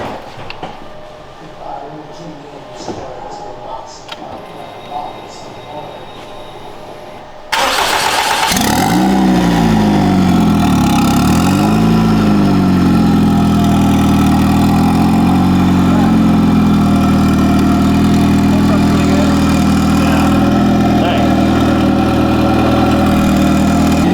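A turbocharged K24 engine swapped into a BRZ/GR86 cold-starts after quiet shop sounds and faint talk, cranking and catching loudly, then settling into a high, steady idle with a brief rev dip, close and dominant.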